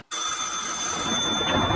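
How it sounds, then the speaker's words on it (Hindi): A telephone rings with a bright, steady electronic trill that starts abruptly and continues, loud and close. "आपका फोन बज रहा है।"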